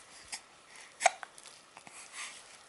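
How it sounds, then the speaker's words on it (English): A baby's small hiccup stands out once at close range, quiet and short, with a few faint soft sounds scattered through the rest. "I thought we were done those hiccups for a second."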